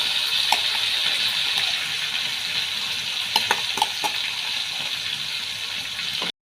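Cumin seeds sputter in hot oil for okra curry, giving a steady close sizzle with scattered sharp crackles and pops, then a sudden cut to silence near the end.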